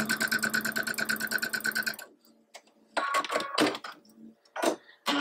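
A sewing machine stitches a quarter-inch seam on a quilt house block in a rapid, even, close burst of needle strokes for about two seconds, followed by scattered handling clicks and rustles.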